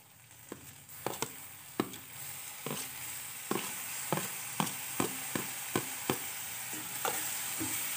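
Chopped tomatoes going into sautéed onions for pav bhaji, a quiet steady sizzle in the pan broken by a regular series of soft stirring clicks and scrapes.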